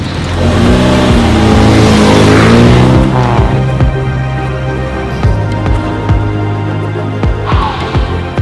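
A Land Crab car being driven on a long-distance road route, its engine humming and revving steadily up close throughout, with gear-change dips and a swelling acceleration.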